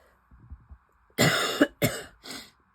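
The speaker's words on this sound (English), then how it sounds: "Apologies, I've got a little bit of a cough today." Three harsh coughs in quick succession, close and loud, following a few soft breathy sounds.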